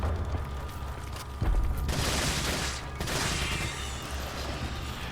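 Handgun fire in Resident Evil 4: a few loud, sharp shots in an irregular sequence over a steady low game rumble.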